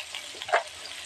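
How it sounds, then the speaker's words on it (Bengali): Pointed gourd and potato fry in hot oil with a soft, steady sizzle, and a brief louder crackle rises midway. "পটল আর আলুটা ভেজে নেব।"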